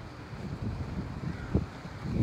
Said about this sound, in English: I'm trying to cuff my microphone so y'all won't hear the wind.